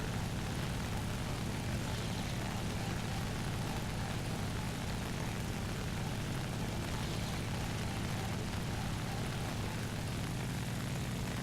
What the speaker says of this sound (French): Des avions me pourchassent.